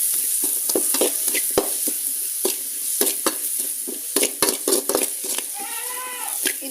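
Onions sauté in a pan with turmeric and salt for a Kerala-style moringa leaf stir-fry, giving a steady sizzle broken by repeated close spoon scrapes and stirring knocks, with no talking.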